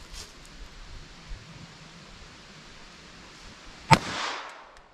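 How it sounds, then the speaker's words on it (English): A single sharp .22 LR pistol shot from Remington Yellow Jacket ammunition fired into ballistic gel, one loud crack standing alone over a quiet outdoor background with a brief decaying tail. "Now let's hit it from our pistol."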